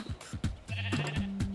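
Blocky Minecraft sheep bleat several times in quick succession, close and clear, with a few short game sound effects between the calls.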